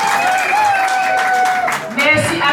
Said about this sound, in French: J'applaudis fortement pour cette brillante lecture.